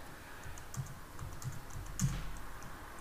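Light, irregular key clicks from someone typing on a computer keyboard, close and fairly quiet, with a slightly louder keystroke near the end.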